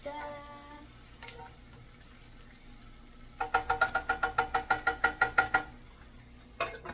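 Asparagus in a pan with butter and garlic, a faint sizzle beneath a quick run of sharp rhythmic tapping and clinking, about a dozen close, evenly spaced hits from a utensil against the pan, with scattered knocks before and after.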